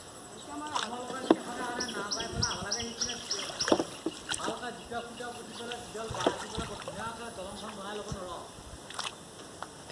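A rowboat pushed through floodwater covering a village road, with soft water splashes and trickles, birds chirping, and people talking throughout close by.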